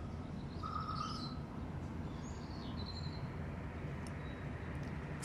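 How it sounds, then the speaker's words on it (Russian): Birds chirp faintly outdoors around six in the morning. A few scattered calls come from a distance over a steady, low background hum in quiet surroundings. "Послушать птички так приятно иной раз."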